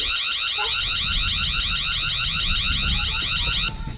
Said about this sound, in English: Now let's check out how the alarm sounds.